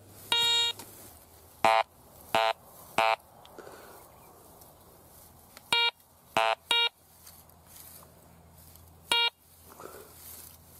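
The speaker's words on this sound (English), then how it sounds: "Sounds like it's beeping as iron, maybe tin." A metal detector passing over an iron target gives sharp, high electronic beeps in short bursts, seven of them spaced irregularly over about ten seconds against quiet outdoor background.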